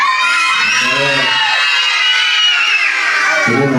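A group of children scream loudly together in imitation, a sustained, piercing shout filling the room at close range, with crowd-like cheering texture and a few voices underneath.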